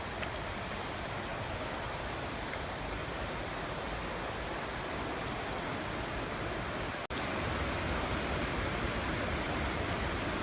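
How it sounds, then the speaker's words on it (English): A creek runs beside a hiking trail near Radium Hot Springs, giving a steady, soft, unbroken rush of water with no voices. "There's a creek down here."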